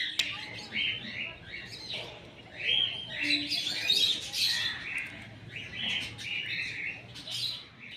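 Pet cockatiels in a cage chirp in repeated bright bursts and short calls, fairly close, with a voice talking now and then between them.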